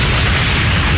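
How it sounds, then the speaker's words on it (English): A massive nuclear explosion at a naval test near shore with large anchored vessels, heard as a loud, dense, sustained roar of low rumble and broadband noise with no pauses. "The monstrous explosion is powerful enough to wipe out a small city"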